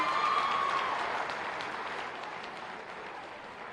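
A crowd at a school awards function for girls' sports teams claps steadily, a soft and fairly distant wash of applause that slowly fades over a few seconds.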